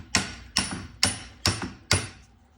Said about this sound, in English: Hammer our safety locks in.